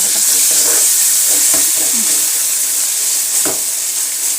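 Tomatoes cook in a pan for noodles with a steady, loud sizzling hiss throughout, broken by occasional soft clicks and stirring knocks.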